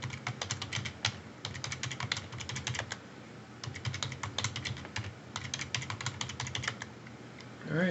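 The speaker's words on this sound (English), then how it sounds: "we're just going to type in PASSWD, hit enter" Rapid keystrokes on a computer keyboard enter a command and password while repairing a SteamOS Linux system, an uneven stream of close, crisp clicks with brief pauses over a faint background hum.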